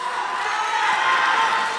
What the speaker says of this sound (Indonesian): Beri tepuk tangan yang paling meriah saat ini.